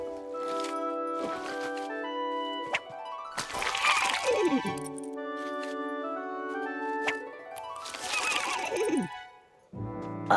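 Green Horsey, a cartoon horse from Cloudbabies, neighs in several long whinnies, bright and close, set against tonal cartoon music-like sounds with short gaps between calls.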